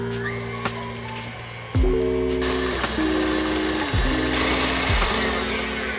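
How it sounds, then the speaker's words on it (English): An electric stand mixer creams butter with 1.5 cups of sugar, running as a steady whirring motor hum that shifts in pitch as the speed changes, with no talk. "We'll cut the mixer on and get that nice and incorporated."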